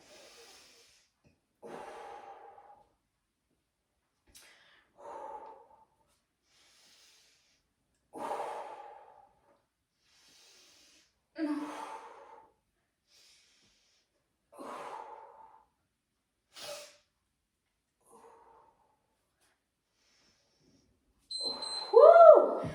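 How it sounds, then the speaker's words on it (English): Slow, deliberate breathing during a core workout, with a series of audible inhales and exhales spaced several seconds apart and quiet gaps between them, ending on a louder, longer breath. "I had to really focus on my breathing there."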